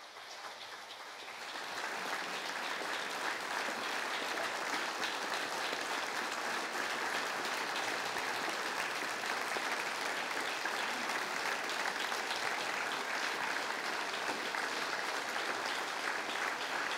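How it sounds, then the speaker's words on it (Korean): Sustained, steady applause from NongHyup employees at a monthly staff assembly, welcoming an award recipient to the stage; dense clapping starts after a brief quiet moment and holds evenly loud throughout. "임직원께서는 큰 박수로 맞이해 주시기 바랍니다."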